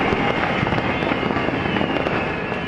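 A firecracker goes off in a burst of dense, loud crackling pops that continue without pause, close by and alone.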